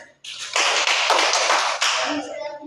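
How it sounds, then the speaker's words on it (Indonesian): Dense clapping from a classroom group fills the space at close range after a brief pause, holding steady for about two seconds before thinning out and fading. "Ya, tepuk tangan."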